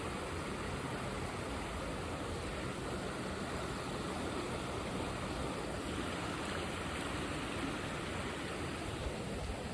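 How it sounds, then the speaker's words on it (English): A river in a nature area beside a bike path in Toronto, flowing as a steady, broad rush of water that holds constant and fairly close for the whole stretch, with no voices over it. "Gotta show you this river."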